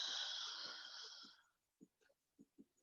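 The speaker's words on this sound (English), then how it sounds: "Exhale, side bend. Blowing out all the air." A forceful, breathy exhale during a side-bend exercise, blown out hard and held for over a second, then fading, followed by a few soft, short breath sounds and small noises nearby.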